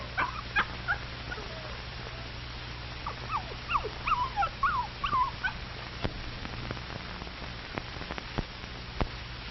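A homesick puppy whimpers and yips in a series of short, high, wavering cries, fairly close and clear, over a steady low background hum.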